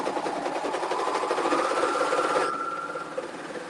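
Serger sewing machine stitching knit fabric runs with a steady fast whirring buzz, loud and close, then eases to a lower hum as the motor slows near the end.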